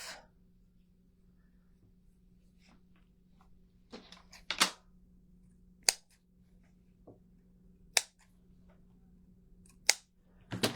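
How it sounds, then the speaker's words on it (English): Scissors snip through tassel material for a Valentine tag garland, about six sharp cuts spaced a second or two apart over a faint steady hum, close and crisp with no talking. "Let's cut this off."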